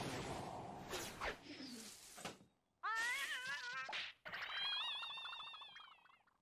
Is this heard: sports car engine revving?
no